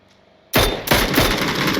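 Loud gunfire from the battle royale game PUBG in a tournament match, with a sudden sharp report followed by a second burst of rapid close shots that rings on.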